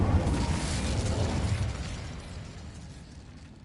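Incendio fire spell cast in Hogwarts Legacy: a loud, dense fiery burst with crackling roar that starts strong and slowly fades over a few seconds, no talk.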